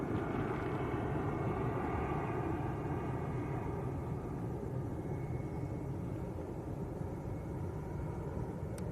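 A jet airliner at Lanzarote Arrecife Airport gives a steady, loud, broadband engine roar that holds for the whole stretch, with no talking.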